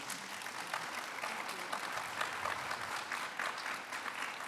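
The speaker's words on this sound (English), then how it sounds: "Let's give them a round of applause" Steady audience applause at a Baylor University behavioral health event, sustained clapping from a crowd throughout, heard at a distance and fairly quiet, with no speech over it.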